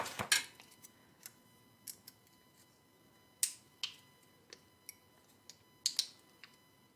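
Scissors snip paper in a series of sharp, separate clicks, some single and some paired, spaced irregularly over a quiet room background.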